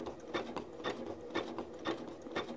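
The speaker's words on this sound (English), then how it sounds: "You got to think about moving your fabric along, making your machine go, and then using the knee lifter." A Janome MC9400 QZ sewing machine stitches fabric with a variable zigzag foot, giving a close, rhythmic mechanical patter in repeated bursts of roughly two per second, with no talking.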